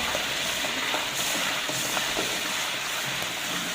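Ghee sizzling on hot oil in a cooking pan, a steady dense hiss of frying that runs unbroken throughout, close and fairly loud, with no voices.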